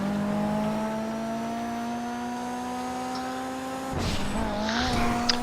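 Steady car engine drone in GTA 5 Online, holding a constant pitch for about four seconds before a burst of tire noise and engine strain near the end, no speech.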